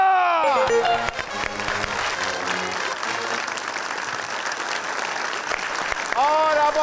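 A studio audience applauds a game-show winner, a loud sustained burst of clapping at close range with voices and cheering mixed in.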